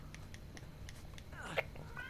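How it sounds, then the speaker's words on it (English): A single short cat meow rises out of a steady background hum, faint and brief, with soft murmuring around it. "my cat is meowing"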